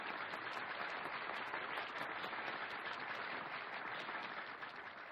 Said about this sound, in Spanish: Y un espumoso aplauso para ellos.